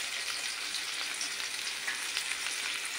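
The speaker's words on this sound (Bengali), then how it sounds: "টমেটোটা ভাজা ভাজা একটু হয়ে গেলে" Tomato frying in a pan for soybean curry gives a continuous quiet crackling hiss, steady and even throughout, with no talking.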